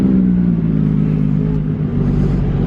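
A Ferrari F50 pulls away in front of a casino, its engine a loud, continuous rumbling drone that dips briefly near the end, with no talking.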